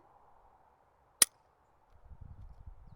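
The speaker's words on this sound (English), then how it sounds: "Trigger to the rear, firing pin dropped." A single sharp, dry click from a Sig P320 or Glock 44 pistol as the trigger is pulled and the firing pin drops, heard up close during a function check. Faint rustling handling noise follows a moment later.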